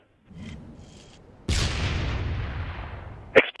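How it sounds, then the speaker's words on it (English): An explosion in the wild: a sudden loud boom with a long rumbling, decaying tail that fills most of the clip, preceded by a faint low rustle and followed by a brief sharp crack at the end. "Explosion."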